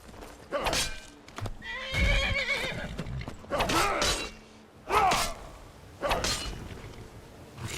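A horse in the video game Skyrim whinnies and neighs repeatedly, several loud bursts spaced across the stretch, mixed with hoof clip-clops and game sound effects.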